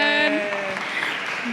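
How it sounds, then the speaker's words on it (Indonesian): A youth Christmas gathering at a church claps for friends, with scattered applause building up under a voice that is talking at first and then fading. "Tepuk tangan sekali lagi untuk teman-teman"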